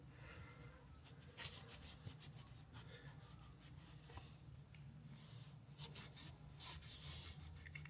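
Rag rubbing and wiping across the oil pan gasket surface of a 1971 Ford Torino engine, a steady close scrubbing rasp with a few louder strokes, no talking.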